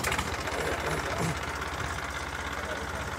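A modified Massey tractor engine runs steadily with a continuous low chugging rumble, fairly close and constant throughout, used for trenching sugarcane fields.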